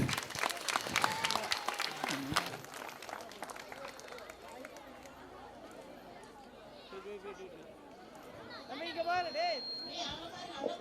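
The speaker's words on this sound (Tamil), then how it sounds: "எல்லாரும் சேர்ந்து ஒரு நல்ல உற்சாகம் ஒரு கைத்தட்டலாமே." Crowd applause at a school centenary festival, lively clapping at the start that fades into general chatter and children's voices, with some running about and a few voices rising near the end.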